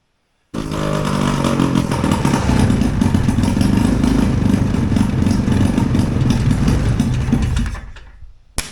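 A Hurricane hovercraft engine, running on only one cylinder, starts abruptly and roars loudly with a rough, uneven, motorcycle-like clatter. It runs for about seven seconds, then quits suddenly, followed by a brief thump.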